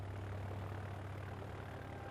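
A Piper Cherokee light aircraft's propeller engine drones at steady power for takeoff, a continuous low hum with a constant tone and no voices.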